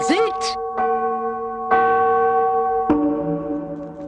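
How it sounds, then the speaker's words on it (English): Bells ring out in several struck peals, each with a long sustained, shimmering tail that lingers and overlaps, fairly loud and close. "ringing the bells till they rocked the steeple"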